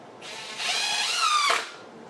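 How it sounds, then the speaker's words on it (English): A power drill with a clutch stop drives screws into a platen board while setting up a screen printing press, a single close, steady whir that ramps up, holds about a second, then cuts out. "So this drill has a stop on it."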